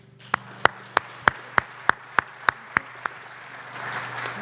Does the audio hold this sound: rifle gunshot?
no